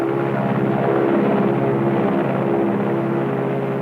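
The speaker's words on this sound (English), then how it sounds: "The bomb-carrying plane makes its initial run." A bomb-carrying plane on its initial run drones steadily overhead with a continuous, loud propeller-engine roar that holds throughout.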